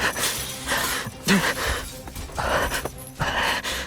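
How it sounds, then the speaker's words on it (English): Male characters in a gacha video game moan and breathe heavily, with several breathy gasps and sighs arriving in close, uneven bursts over a few seconds. "I didn't expect to hear men moaning and breathing in my ear."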